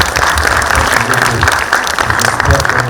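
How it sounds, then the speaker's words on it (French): Dense, steady applause fills a hall at a public talk with a professor and a politician, loud and close throughout, with voices faintly mixed in. "Je vous demande d'applaudir et de l'applaudir s'il vous plaît."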